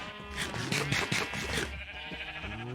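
Sheep in a Minecraft-style video game let out several wavering bleats close by, a loud cluster early on followed by quieter calls.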